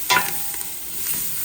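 Scallion, thyme and garlic sizzle in a pan with turmeric and black pepper, making a soft, steady fry with a brief stirring scrape near the start.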